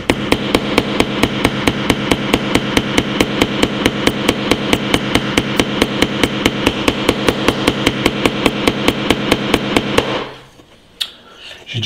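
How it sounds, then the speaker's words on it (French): A Vkworld VK700X smartphone is used as a hammer to drive a big nail into hard wood, about forty loud, evenly spaced sharp knocks in rapid rhythm that stop abruptly near the end. "J'ai du mal à planter quand même ce gros clou. On dirait vraiment que ce bois est dur quand même."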